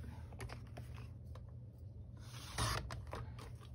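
Scissors cut through a card sentiment for a handmade card front, producing a few soft snipping and rubbing sounds close by, with one louder cut partway through.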